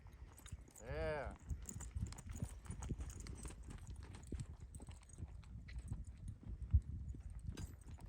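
A green horse moves during a groundwork lesson, its hooves clip-clopping in an irregular walking rhythm at moderate distance. A voice talks over it and a brief rattle of tack sounds early on.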